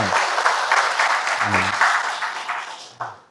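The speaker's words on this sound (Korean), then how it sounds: "박수 부탁드립니다." An audience at a Korean event claps continuously for about three seconds, a dense even wash of applause that fades toward the end, with a voice briefly heard near the close.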